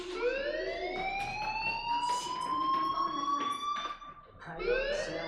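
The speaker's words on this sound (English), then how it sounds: "Hey, do you hear that fire alarm?" Fire alarm wailing in the video game Life Is Strange, a rising electronic siren tone that sweeps up repeatedly, loud and close, with a brief dip before restarting.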